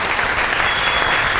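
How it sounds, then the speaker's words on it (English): Audience applause follows a magic trick at a banquet, a dense, steady clatter of many hands clapping close by and filling the whole moment without break. "See, I do a magic trick, and then you clap."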